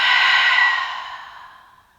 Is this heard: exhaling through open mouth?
yes